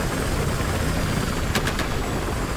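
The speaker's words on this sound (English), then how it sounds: "They got a transport chopper" A transport helicopter in the shooter game Battlefield Hardline makes a steady whirring engine and rotor drone, with a few brief sharp clicks partway through and no talk.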